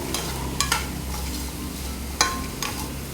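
Cut beetroot frying in a pan with salt, a steady soft sizzle underneath and a few sharp scraping stirs of a spoon against the pan at intervals, close and fairly quiet.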